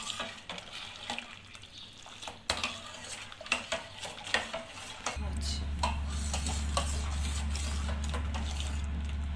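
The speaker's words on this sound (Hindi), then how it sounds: "इस चम्मच को बराबर चलाते जाएं।" A spoon stirs a milk and custard mixture for shahi tukray, producing scattered light clinks and scrapes against the pot, joined midway by a steady low hum from a burner or appliance.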